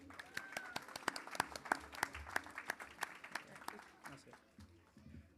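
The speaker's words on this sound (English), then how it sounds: "can we get a round of applause for everyone who fasted for Ambel this week?" A community audience at a Jain youth celebration applauds those who fasted, with scattered individual claps ringing out over a quiet room and some faint voices, the clapping thinning and fading toward the end.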